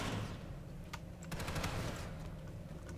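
Enemy gunfire in the sci-fi shooter game Planetside 2, a steady busy rattle of shots with sharper cracks near the one-second mark and a low rumble beneath, moderately loud throughout.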